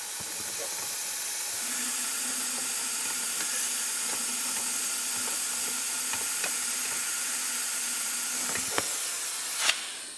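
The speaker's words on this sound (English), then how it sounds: "I've got my fluid vacuum." A continuous airy hiss and gurgling suction runs steadily as power steering fluid is drawn from the reservoir of a 1998-2002 Lincoln Navigator through a hand vacuum pump, ending with a short sharp burst.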